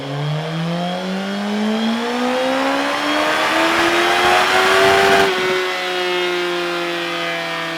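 A Suzuki GSX-S1000F motorcycle with the exhaust baffle fitted revs up in one long, smooth rising sweep. The engine note climbs loud and close to a peak, then drops back abruptly to a steady higher idle.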